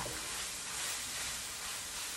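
Ground beef, onions, mushrooms and garlic stirred together in a hot pan for keto beef stroganoff, giving a steady close sizzle and hiss with soft scraping throughout and no voices.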